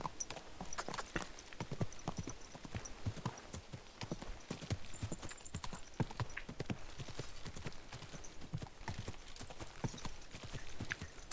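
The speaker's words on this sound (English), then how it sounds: "that looks like a bloody expensive horse" Horse hooves clip-clop steadily through the whole stretch in Kingdom Come: Deliverance II, a fast, even patter of many hoof strikes at close range with faint background ambience and no talking.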